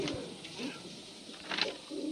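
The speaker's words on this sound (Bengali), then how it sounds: "বন্ধুরা, প্রথমে এক পেয়ার মালবাই পায়রা দেখাচ্ছি।" A pair of caged Malbai pigeons, a male and a female, coo softly in low repeated murmurs, with a brighter burst near the end.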